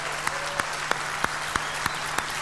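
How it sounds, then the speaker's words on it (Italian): Audience applause greets the singer on the Fiesta Latina TV show. Steady clapping runs under a regular beat of sharp percussive hits, with a low hum in the background. "Applauso per lui."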